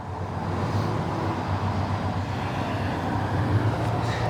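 A restored 1962 Chris Craft ski boat's engine runs at a steady low rumble, constant and fairly loud throughout with no voices over it.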